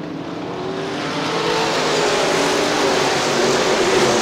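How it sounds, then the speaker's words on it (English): Super late model race cars roar past at Crystal Motor Speedway in Crystal, Michigan, a loud, swelling engine drone building steadily as the pack drags down toward turn three. "They'll drag race down to turn 3 for the number 3 spot."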